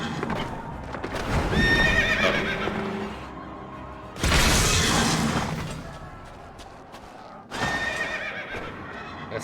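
Several horse whinnies ring out in Final Fantasy XIV amid clip-clopping hooves and bursts of combat noise, loud and close, in three separate surges with no talking.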